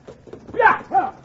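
Radio drama sound effect of horse hooves clopping, a few quick knocks followed by two louder hoof strikes, close and short.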